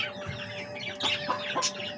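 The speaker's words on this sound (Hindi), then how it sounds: "ये मुर्गा तो मेरे हाथ में आ गया" A rooster clucks in short, close bursts while being held in hand near a chicken coop, the calls rising in the second half over a steady background hum.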